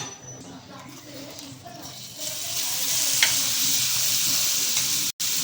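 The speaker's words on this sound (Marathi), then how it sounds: "आता मी याच्यात थोडं तेल टाकते तव्यावर जास्तचं, आणि आता हे सगळं परतवून" Food sizzling and stir-frying in oil on a griddle, the sizzle growing louder and denser midway, with faint clinks and a quiet voice early on.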